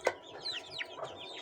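Chickens cluck and squawk in short, scattered calls, fairly close, with no talking.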